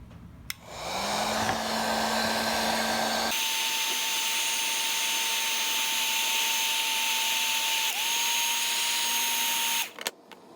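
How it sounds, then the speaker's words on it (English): A heat gun warms the engine block of a Traxxas Rustler TRX 3.3 RC nitro engine, blowing a steady, loud whirring hiss for about ten seconds. Its pitch shifts once early on, and it cuts off abruptly at the end. "It's probably a good idea to heat the block up again."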